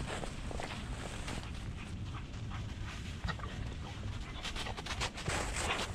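Several Weimaraner dogs walking on a rocky mountain trail, their footsteps crunching steadily with close, audible panting throughout, a few sharper steps and scuffs standing out near the end.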